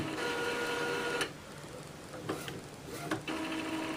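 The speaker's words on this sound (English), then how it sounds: "press the ink drop button so the printer can start charging up the printer" An Epson inkjet printer fitted with an external continuous ink tank system hums and whirs steadily while charging its ink cartridges, with a few brief mechanical clicks and shifts in the motor noise.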